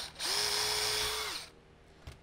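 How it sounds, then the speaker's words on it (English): A power drill bores a glue escape hole into the barrel channel of a Kar 98 AZ rifle stock, running steadily and loud for about a second before winding down, followed by a faint knock. "Don't drill all the way through the bottom of this thing."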